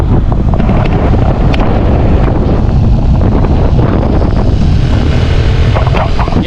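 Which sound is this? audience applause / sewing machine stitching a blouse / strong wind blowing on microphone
strong wind blowing on microphone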